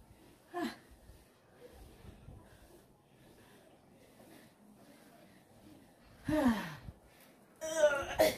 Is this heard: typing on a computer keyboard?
no